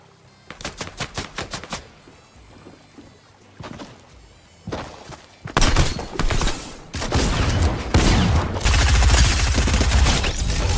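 Gunfire in the video game Fortnite, a rapid burst of loud, close shots followed by heavier, dense volleys and booming impacts, loud and alone without talk.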